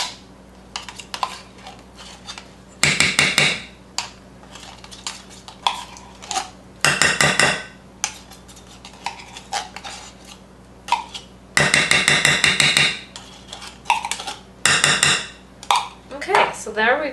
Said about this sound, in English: let's grab that tomato paste. I'm just going to mix this in.